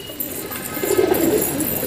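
Pigeons on a rooftop give a short, soft burst of throaty cooing, close by, over light background noise.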